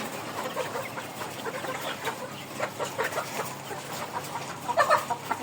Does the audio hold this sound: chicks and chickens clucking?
yes